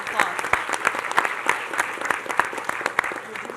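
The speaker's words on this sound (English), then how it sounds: "Let's give them a round of applause." Audience at a school board meeting applauding students, a crowd of scattered, uneven claps with sharp individual hand strikes standing out, steady throughout at moderate loudness.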